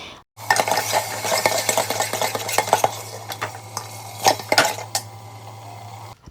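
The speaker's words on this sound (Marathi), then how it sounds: "ती सगळी पेस्ट यामध्ये घालून द्यायची आणि ती परतवून घ्यायची" Spatula clinks and scrapes against a metal pressure cooker as a thick green masala paste is sautéed in oil, with a soft sizzle and a steady low hum underneath.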